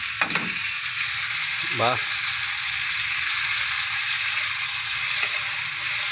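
Ubok drops into hot oil in a pan and fries with a steady loud sizzle, a brief stirring clatter near the start and a short spoken word over it.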